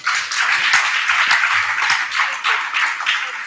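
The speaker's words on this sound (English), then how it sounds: "please, my dear audience, a round of applause for all our contestants" An audience claps for contestants at a school competition between two secondary schools, producing close, steady applause with many overlapping hand claps throughout and no talking.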